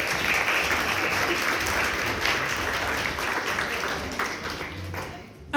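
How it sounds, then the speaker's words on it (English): A large wedding reception crowd applauds steadily and loudly, the clapping holding strong throughout before tapering near the end, with faint voices mixed in. "Let's give Sky another big round of applause."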